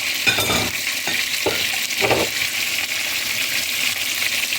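Spices tipped into a simmering pot of biryani and stirred, with a steady bubbling sizzle throughout and several short scraping stirs of a utensil against the pot near the start.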